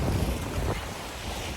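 Beach ambience at Boca Raton, Florida, with strong wind buffeting and the wash of waves, loud and continuous throughout without voices.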